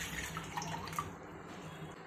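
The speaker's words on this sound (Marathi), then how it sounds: "याच्यामध्ये 1 ग्लास पाणी घेत आहे" A glass of water is poured into a pot with jaggery and dry fruits before the gas is lit, a brief close trickle and splash lasting about two seconds.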